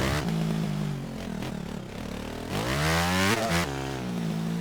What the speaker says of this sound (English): start the bike there